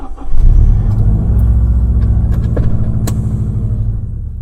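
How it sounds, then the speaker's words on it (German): A car engine rumbles steadily as a sound effect in a German radio drama, a close, loud and continuous drone with no voices over it. "Die ganze Zeit schon verfolgte sie einen Mann mit seinem Auto."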